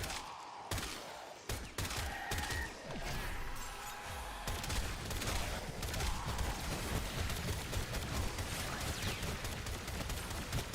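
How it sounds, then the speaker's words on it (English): Rapid, repeated gunshots in the video game Warframe, a dense loud burst of fire that runs almost continuously for several seconds with no talking. "look how many shots I have to shoot to kill this thing now"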